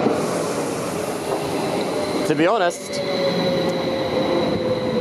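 A Stadler passenger train runs on a Luxembourg line between Luxembourg and Esch-Belval, heard from inside as a steady rolling rumble with a brief wheel squeal or whine partway through, and someone talks briefly over it.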